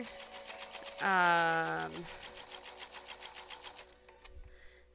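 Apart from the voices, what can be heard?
computerized sewing machine quilting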